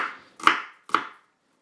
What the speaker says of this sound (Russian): Видите, нарезочка идет быстро.